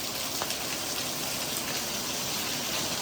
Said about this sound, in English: even though the rain has picked up dramatically